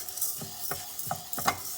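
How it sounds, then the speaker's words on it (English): A spoon scrapes through spices frying in a pan for idli powder, four or five distinct stirring strokes over a faint, soft sizzle. "Fry until nice aroma comes, and you have to keep on stir this."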